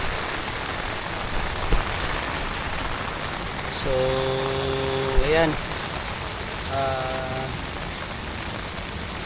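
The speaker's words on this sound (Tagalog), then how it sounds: "Biglang buhos ng ulan." Sudden heavy rain pours steadily onto a tent pitched at a motocamping spot in Damortis, La Union, a dense close hiss throughout, with a brief voice and a few short tonal whines cutting in.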